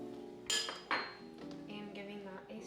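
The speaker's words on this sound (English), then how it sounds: "So I'm gonna add the carrots and the diced potatoes. This is a really big spoon, so I'm just adding a couple of those" Diced carrots and potatoes added to a pot with a big spoon, two sharp clanks of the spoon on the rim followed by softer clinks and faint rustling, set against a low tonal background hum.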